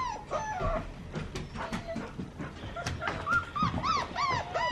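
A dog whimpers and whines close by, giving a run of thin, high, wavering cries that rise and fall, growing more insistent toward the end.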